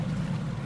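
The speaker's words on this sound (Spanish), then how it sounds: "Barcaza." A barge on the water gives a steady low engine hum with wind and wave wash, loud and continuous for a brief moment, with no voices.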